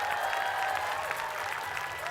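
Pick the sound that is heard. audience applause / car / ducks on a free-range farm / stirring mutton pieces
audience applause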